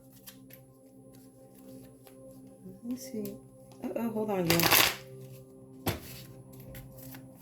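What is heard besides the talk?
shuffling tarot cards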